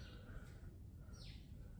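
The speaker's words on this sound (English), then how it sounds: "Got all these little birds in my shed." Small birds chirping inside a shed, with a couple of brief high calls and a falling chirp standing out faintly over a steady low background rumble.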